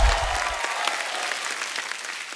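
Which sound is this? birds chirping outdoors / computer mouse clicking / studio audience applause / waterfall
studio audience applause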